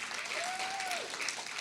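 Audience applause at a lecture on reinventing higher education, steady clapping from a crowd, with a brief whistle-like tone rising and falling through the middle.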